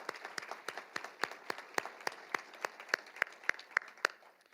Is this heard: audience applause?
yes